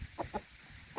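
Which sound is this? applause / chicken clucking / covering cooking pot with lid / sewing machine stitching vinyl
chicken clucking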